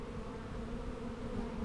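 Honeybees around a hive frame holding nectar and bee bread hum in a dense, continuous low buzz, faint and steady with no voices.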